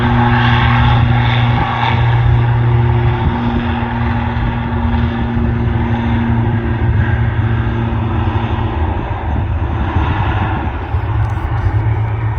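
An airliner taking off at Manchester Airport in dark winter skies, a loud, sustained roar of jet engines with a steady broad rumble and faint tonal whine, heard from a nearby viewing area without talk.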